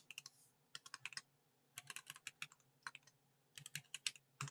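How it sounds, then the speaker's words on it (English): Numbers tapped out on a computer keyboard, quick clustered bursts of crisp key clicks with short pauses between, close and fairly quiet, no talking. "I'm typing these numbers out again."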